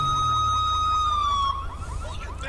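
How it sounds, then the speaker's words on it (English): A California Highway Patrol police siren in GTA V wails loud and close in a steady rising-falling pattern, fading slightly toward the end over a low engine rumble. "There's our CHP siren."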